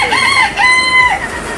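Chickens cluck nearby while a rooster crows loudly, its drawn-out call rising and falling over the noisy yard.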